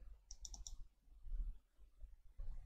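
A computer mouse double-clicks during animation software work: a quick burst of small crisp clicks near the start, followed by faint, soft desk thumps and handling noise with no voices.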